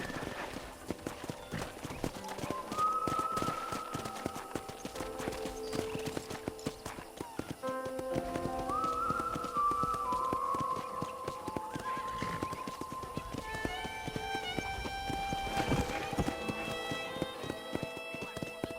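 Horse hooves clip-clop steadily at a running gait while riding in the video game Red Dead Redemption, with an occasional whinny, over in-game music and background ambience.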